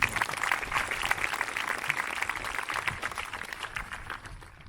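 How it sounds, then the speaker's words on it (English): Graduation audience at a high school ceremony applauds in a steady wash of clapping that holds through and tapers off slightly at the end. "let's give Mr. Goodman a round of applause"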